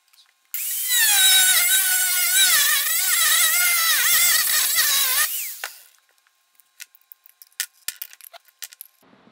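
Angle grinder fitted with a flap disc grinding a steel knife blank, a loud sustained high whine lasting several seconds with a pitch that wavers under load, then spinning down and giving way to scattered clicks and taps.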